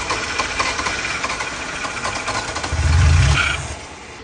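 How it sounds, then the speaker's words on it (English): A rebuilt car engine cranks and rumbles toward starting, with a steady mechanical chatter that swells into a louder low surge near the end, alone without voices. "We're trying to start the engine right now."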